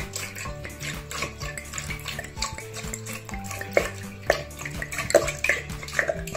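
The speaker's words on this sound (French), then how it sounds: "Nous allons remplir le bac supérieur avec 3 litres d'eau." Water poured steadily into the upper tank of an Eva water filter fountain, a continuous splashing trickle with light plastic knocks and clinks throughout.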